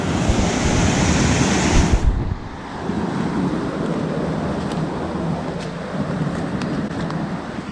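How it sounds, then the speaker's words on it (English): Mountain runoff waterfalls give off a loud, continuous rushing roar of water outdoors, mixed with wind noise on the microphone and dropping somewhat in level after the first two seconds. "There's more waterfalls up over here."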